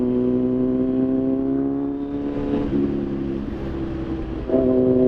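A 2019 Kawasaki Z900 motorcycle accelerates, its engine note rising steadily in pitch through the gears with brief drops at shifts, loud and close with no talk.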